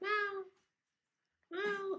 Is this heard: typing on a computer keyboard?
no